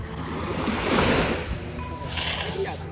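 Sea water and waves wash against the Key West shore of the Caribbean, with one surge swelling loudly at mid-clip over a constant rushing background while people talk nearby.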